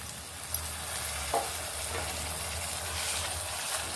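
Tomato pieces frying with onions and curry leaves, giving a continuous soft sizzle with a few light stirring scrapes and taps against the pan.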